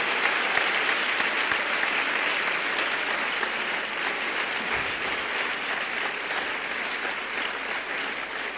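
A church congregation breaks into sustained applause, a thick, even wash of many hands clapping that holds at a constant level throughout.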